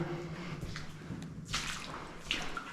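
Water sloshing and splashing as a character wades through deep water in a mine in a video game, with two louder surges of splashing toward the end over a low background.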